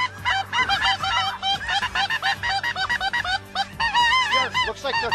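A large flock of snow geese passes overhead during a Manitoba hunt, many overlapping high nasal honks in rapid, clamorous bursts, loud and fairly close, with no speech.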